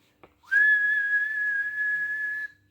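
One sustained shrill whistle blow from a Mr. Men children's story, beginning with a quick upward slide, then a flat piercing tone held for around two seconds, near and loud, preceded by a faint click.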